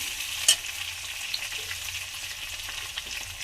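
Potatoes fry in a pan with a continuous hissing sizzle and an occasional light clink or stir.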